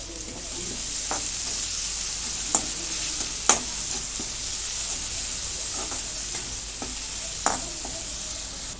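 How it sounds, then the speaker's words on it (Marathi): Tomato and two slit green chillies sizzle and fry in a pan for a leftover-chapati dish, a steady broadband hiss broken by occasional scraping stirs and spatula clicks, close and with no talking. "आता टॅमॅटो पण चांगला परतून झालेला आहे"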